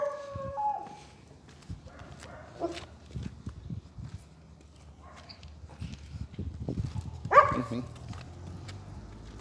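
A French bulldog puppy gives a few short barks outdoors during leash-free walking practice, one near the start and a sharper one later, separated by soft footsteps and scuffling.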